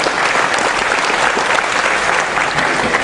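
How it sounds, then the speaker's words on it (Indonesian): Sustained audience applause at an anti-corruption discussion event, loud dense clapping from a large crowd filling the whole moment without pause. "Tepuk tangan semuanya"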